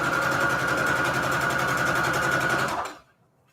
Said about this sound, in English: I'm gonna chain all these pieces, all these like long pieces of paper here that I'm sewing fabric on.